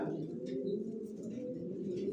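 Racing pigeons coo together in a loft, a dense, continuous low murmur of overlapping calls with no single bird standing out.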